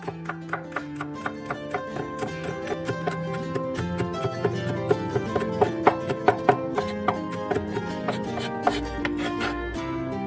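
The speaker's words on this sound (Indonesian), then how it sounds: "Pertama, kita geprek dan cincang dulu bawang putihnya." A knife finely chopping garlic on a cutting board in a quick, steady run of crisp taps that grows slightly louder and denser, close up with no talking.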